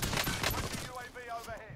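Rapid gunfire from a first-person shooter video game crackles in a dense burst of shots, loud and close, fading out over a couple of seconds.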